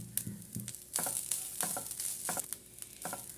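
A banana snack mixture fries in a pan with cashews and dates as a spatula stirs it, steady sizzling broken by repeated scraping strokes that come roughly every half second, close and clear.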